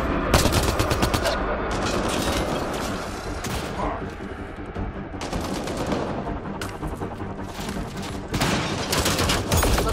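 Rapid automatic gunfire in the video game Mass Effect Andromeda, dense bursts of shots with short pauses between volleys, loud and continuous.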